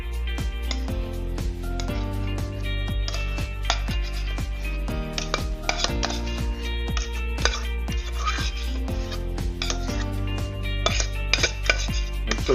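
Baked macaroni and cheese dumped and scraped from a pot into a baking pot: a steady run of metal-on-metal clanks and scraping taps from a spoon against the pots, close and continuous throughout.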